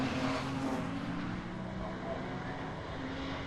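Porsche race car in the BRSCC Porsche Championship at Oulton Park, a steady loud engine roar that stays close throughout, with commentary talking over it.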